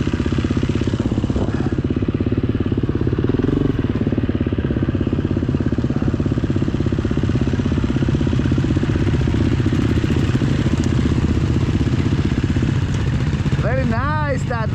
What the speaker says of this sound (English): me and Kenny are riding the new Plu slick tyres